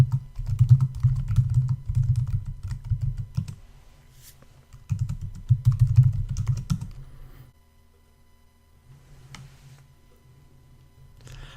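Typing a terminal command on a computer keyboard: two bursts of rapid, close key clicks separated by a brief pause, then a few scattered lighter taps. No voices.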